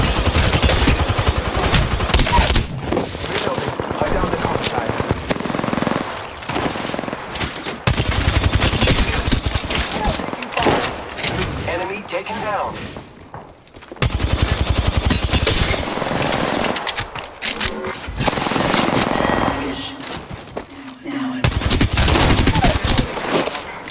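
Dense, sustained bursts of rapid automatic gunfire and single shots in an Apex Legends Arena match, loud and close, broken by a few short lulls and a faint game voice.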